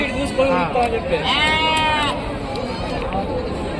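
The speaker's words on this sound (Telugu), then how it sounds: "మేక" At a weekly goat market, a goat lets out one wavering bleat midway, nearby and clear, over a steady background of crowd murmur and people talking.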